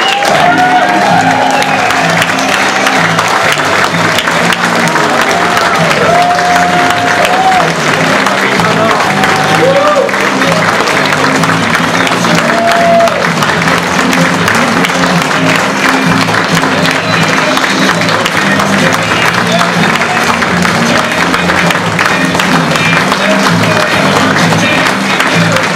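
Sustained applause and crowd noise fill a town hall meeting in Mason City, Iowa, as the audience welcomes Donald Trump, a dense steady roar of clapping with voices mixed in throughout.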